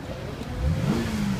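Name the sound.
2014 Cadillac XTS V-Sport engine running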